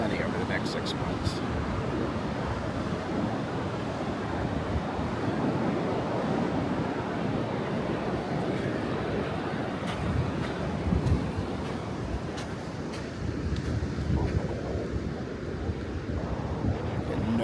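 Beach surf and gusting wind buffet the microphone on a Pinellas County beach after Hurricane Milton, a loud, continuous roar of waves and wind throughout.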